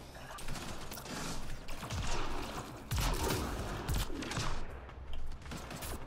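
Gunfire in Mass Effect: Andromeda multiplayer, a dense, busy clatter of shots and mechanical clicks throughout, with talk at times.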